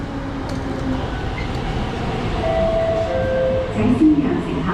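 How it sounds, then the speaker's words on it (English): MTR East Rail line R-Train pulling into a station platform, a steady low rumble of wheels and motors with faint squeals and a rising clatter near the end, under a busy station ambience. "A train to Admiralty is arriving."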